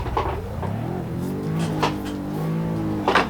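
A race car engine in a driving game played on a Logitech G920 wheel revs and climbs through gears, its rising and falling whine loud and continuous with brief shifts.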